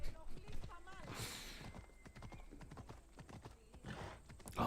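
Rhythmic clip-clop of galloping horse hooves in Assassin's Creed Odyssey, steady and close throughout, with speech over it and a brief whinny.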